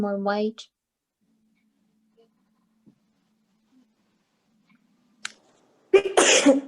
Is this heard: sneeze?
yes